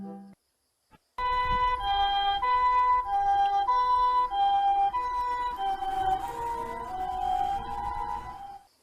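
A toy ambulance's electronic siren plays a steady, looping two-tone wail, close and fairly loud, after a brief quiet start.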